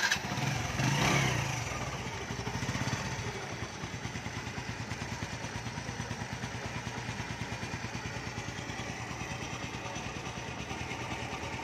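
A Honda motorcycle engine, Thai-market Wave or Dream type, starts with a brief rev, then settles into a steady, slightly raspy idle that putters evenly and close up throughout.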